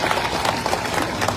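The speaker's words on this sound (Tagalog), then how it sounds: "Pwede ba palakpakan natin yung mga staff natin?" A large crowd claps for the event staff, a dense, steady wash of many hands that is loud and close and lasts only a moment.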